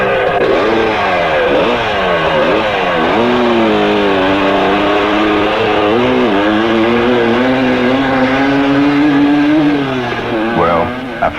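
A 1972 Yamaha DT2MX vintage two-stroke motocross bike revs steadily and loud for the whole stretch, its pitch rising and falling as the throttle is worked, with a brief dip near the end.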